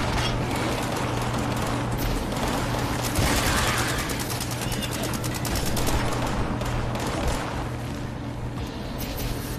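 Steady automatic weapon fire in the video game Fallout 76, a continuous rattling stream of shots over a constant background hum, fairly loud and unbroken.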